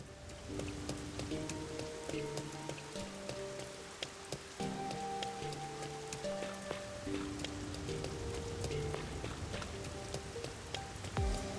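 Steady rain pours in the world of the video game Rain Code, a dense continuous hiss running throughout beneath soft game music with sustained tones.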